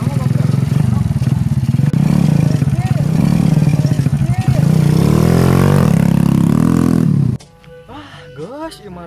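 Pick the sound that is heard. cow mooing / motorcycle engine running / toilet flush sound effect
motorcycle engine running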